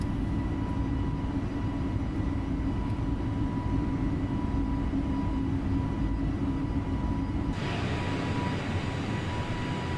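A jet airliner's engines roar steadily during takeoff from Fortaleza in Microsoft Flight Simulator, a loud sustained broadband drone with a tonal whine that shifts abruptly near the end as the climb begins.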